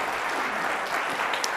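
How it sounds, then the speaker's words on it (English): An audience at a presentation on voice search and conversational commerce gives a steady, dense round of applause from many hands, moderately loud, with no speech over it. "But another round of applause for Morgan."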